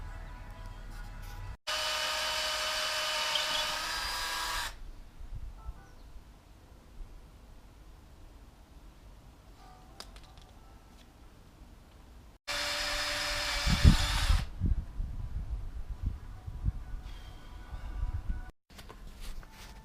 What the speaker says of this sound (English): So now I'm going to drill in